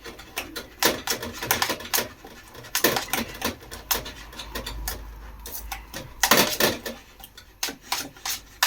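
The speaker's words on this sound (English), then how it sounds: "So I'll just mix that in so it's all incorporated." A homemade potato crisp mixture with cheese is stirred in a bowl, giving rough scraping and rasping strokes in an irregular rhythm, close and fairly loud, with soft knocks between strokes.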